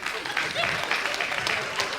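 Comedy club audience at a stand-up set clapping hands in a steady, dense patter of claps that fills the room, with some murmuring voices mixed in.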